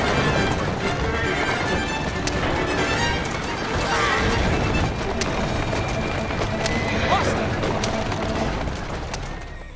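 A horse-drawn carriage is rammed by thugs in the video game Assassin's Creed Syndicate: clattering hooves, horse whinnies and rolling wheels form a dense, continuous din with crashing impacts, as someone talks over it.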